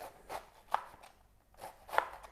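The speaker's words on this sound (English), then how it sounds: "You don't want to go all the way through because then it'll just fall apart as you're chopping." Quiet, crisp knife chops on a cutting board as vegetables are diced small for soup, a few sharp taps spaced unevenly, close by.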